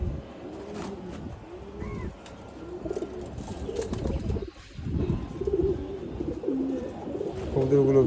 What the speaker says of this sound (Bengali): এই বৃষ্টির সময় যে কবুতর আলাদের কি কষ্ট